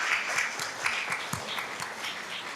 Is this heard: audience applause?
yes